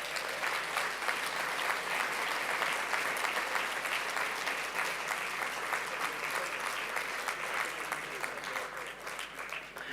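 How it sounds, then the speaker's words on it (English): An audience applauds award winners and nominees at a ceremony, a steady, dense clapping that continues at even strength for the whole stretch and tapers only slightly near the end. "a big round of applause for the winners and the nominees"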